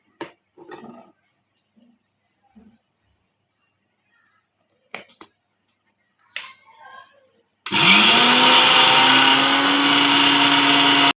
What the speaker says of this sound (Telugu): మిక్సీ పడుతున్నాయే.